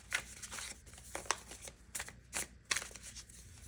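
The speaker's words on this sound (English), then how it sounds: "I'm just going to keep shuffling here." A deck of tarot cards shuffled by hand, with repeated close, crisp riffles and slaps in an uneven rhythm and quiet pauses between bursts.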